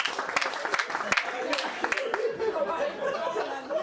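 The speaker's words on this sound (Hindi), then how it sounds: "ताली बाली बजा सकते हो।" Audience at a Hindi comic poetry gathering (hasya kavi sammelan) in Etawah during Holi, breaking into scattered clapping with laughter and chatter, dense at first and then thinning into a murmuring crowd.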